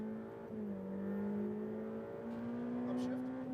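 Ferrari F8 Tributo engine pulling hard after an upshift on a racing circuit, a steady rising drone heard from inside the car, fairly faint, with a driving instructor talking over it.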